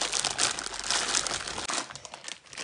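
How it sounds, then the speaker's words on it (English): A plastic bag of kinetic sand is opened and tipped into a sandbox, producing dense crinkling and rustling up close, with bursts of crackle and a pouring hiss as the contents slide out. "Let's open the bag up and tip it in the sandbox."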